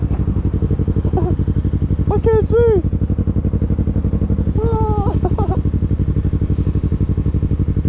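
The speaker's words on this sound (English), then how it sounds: "I'm crazy for riding my motorcycle in 39 degree weather." A Yamaha YZF-R3 sport bike is ridden to school in 39°F cold, its close engine droning steadily with a buzzing, pulsing tone throughout, while a rider talks over it in short bursts.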